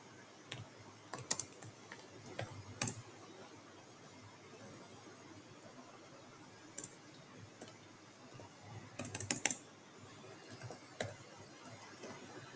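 Someone types on a computer keyboard, with quiet, irregular clusters of key clicks separated by pauses, close and faint in a hushed room.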